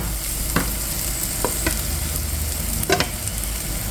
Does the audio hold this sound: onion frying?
yes